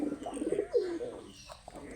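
Pet pigeons cooing up close, with a couple of soft, throaty rolling coos over about two seconds in a quiet setting.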